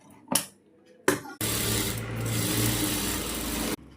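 A sewing machine stitches a blouse sleeve, running in one continuous loud whirring burst for a couple of seconds after a couple of brief handling knocks, then stopping abruptly.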